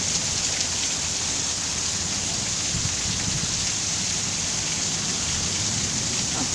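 Heavy rain in Phoenix, Arizona pours in a dense, steady hiss with a constant patter of drops on surfaces nearby, with no break across the whole stretch.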